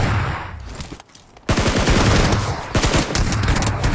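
Loud bursts of automatic gunfire from a shooting video game, a rapid rattling volley, a brief pause, then another long sustained stream of shots, close and dominant.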